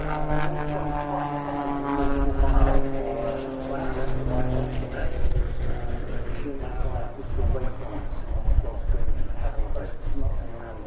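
A propeller aircraft engine rated above 320 horsepower drones at an air show, a continuous droning hum with pulsing harmonic tones that rise and fall, while a commentator talks steadily over it.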